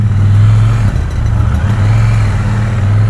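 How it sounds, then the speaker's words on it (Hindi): A Triumph Bonneville motorcycle idles with its engine and exhaust running, a loud, steady low throbbing rumble close by, dipping briefly once or twice, with no talk. "बाइक स्टार्ट किया है, होपफुली अच्छा वीडियो रिकॉर्ड हो।"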